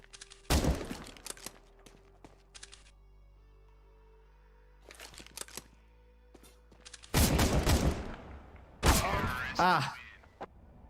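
Auto sniper fire in the video game CS:GO comes in several separate bursts of rapid, loud shots with quiet gaps between them, and the later volleys are the densest; a voice is briefly heard in the mix.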